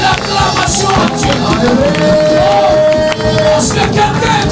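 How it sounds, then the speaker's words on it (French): Church congregation in Montréal cheering and acclaiming, a dense crowd roar with whoops, scattered clapping and a sustained shout rising through the middle, loud and close. "Donne une belle acclamation à Dieu."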